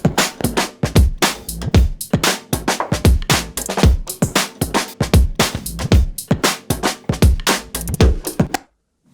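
A basic soloed beat from an audio branding session, steady punchy drum hits repeating in a quick regular rhythm, loud and up close with no voices, stopping abruptly near the end.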